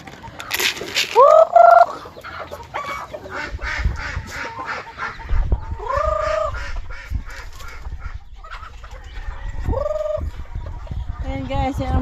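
Farm poultry at feeding time: chickens with several loud gobbling, honking fowl calls rising over a busy background of clucks, scratching and rustling, fairly close.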